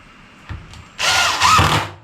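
A power drill driving screws into the wooden slats of an Adirondack chair, a short tap then a loud close whirring burst of about a second that strains as the screw seats.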